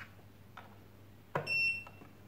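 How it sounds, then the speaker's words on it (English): A sharp click followed by a single short, high electronic beep as a RENPHO foot massager (model RP-FMO79R) powers on, close and clear in a quiet room. "You heard the beep, now it's powered on."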